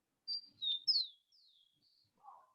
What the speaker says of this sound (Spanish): ¿Alguien tiene el micrófono abierto y se escucha pajaritos,